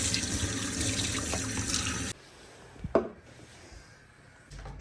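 Tap water runs steadily from a faucet into a container during a water change, a loud continuous gush that cuts off abruptly halfway, followed by a quiet room with a few soft knocks and handling sounds.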